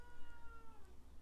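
A pet cat gives a single drawn-out meow, faint and slightly distant, over a low background hum.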